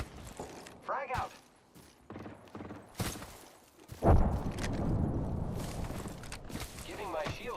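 A grenade in a video game explodes with one sudden loud blast followed by a sustained rumbling decay, with game voices heard earlier.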